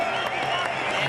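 Steady crowd applause at the WACA cricket ground in 2008 as Mitchell Johnson leaves the field after taking 7/42, a dense, continuous wash of clapping with no distinct individual claps.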